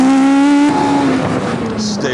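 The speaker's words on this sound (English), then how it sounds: "The Atom's 3-litre V8 is actually 2 motorbike engines stuck together." An Ariel Atom's 3-litre V8, built from two motorbike engines, screams loudly on a race track, its pitch holding high then dropping as it lifts off, with someone narrating over it.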